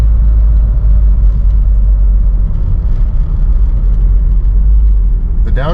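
A Saturn car's engine rumbles low and steady from inside the cabin as the car slows down and downshifts, a heavy continuous drone with no clear gear changes.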